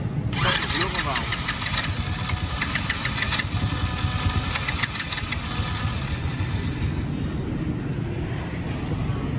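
Suzuki Sonic motorbike engine cranks and fires up, then settles into a steady, close, buzzing idle with a light mechanical knock, while a person talks over it.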